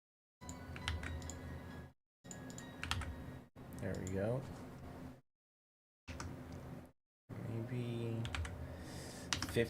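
Bursts of keyboard typing, steady clicking keys in several runs separated by brief silences, fairly close and moderately loud.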